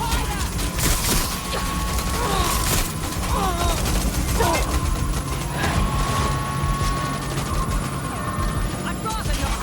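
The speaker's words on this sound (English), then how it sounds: "Drone reinforcements en route." Enemy drones flying in as reinforcements in Watch Dogs: Legion, a steady mechanical whir and buzz running loud and continuous throughout, with game voices and talk over it.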